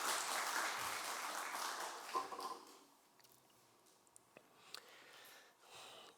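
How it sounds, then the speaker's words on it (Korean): Congregation applause for a children's choir at a church service, a broad clapping wash for about two seconds that thins out and fades, leaving sparse faint sounds. "큰 축복의 박수 다시 한번 보내겠습니다"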